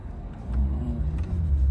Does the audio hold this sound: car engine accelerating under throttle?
yes